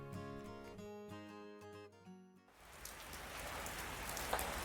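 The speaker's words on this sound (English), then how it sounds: "People talk about this kind of rain when they say raining cats and dogs." Heavy rain pours down steadily as a dense, loud wash of hiss, with no voices; music fades out during the first half and gives way to the downpour.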